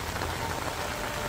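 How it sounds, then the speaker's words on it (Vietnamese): Heavy rain pours down steadily outdoors beside a plot of land near homes in rural Vietnam, a dense, continuous hiss filling the scene with no gaps. "Tôi đang quay thì trời đang mưa rất là to."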